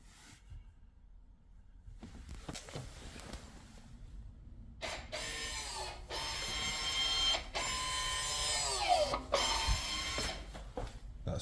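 The ABS module pump on a 2016 Ford Mondeo whirs and buzzes in short mechanical bursts during a function test, rising after a quiet start and running fairly steadily, with clicks and ratcheting textures mixed in.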